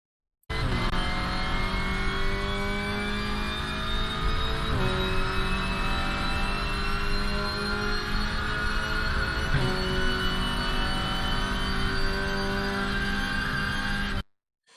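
WTCR touring car in the RaceRoom racing game running down the main straight at Suzuka, a loud continuous engine drone with rising pitch and two brief gear-change dips, steady and close throughout with no talk.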